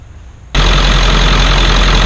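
Truck engine cranked and started during HVAC service work: near-silent background, then the engine catches abruptly and settles into a loud, steady, rumbling run that fills the rest of the clip.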